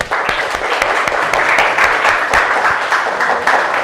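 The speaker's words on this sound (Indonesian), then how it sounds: "tunjukkan semangat kepada Bapak dengan tepuk tangan yang meriah ya" A classroom of schoolchildren clapping together on request, loud and close with a continuous dense patter of many hands and sharp individual claps standing out.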